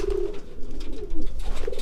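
Racing pigeons cooing nearby, soft repeated throaty coos over a low background rumble.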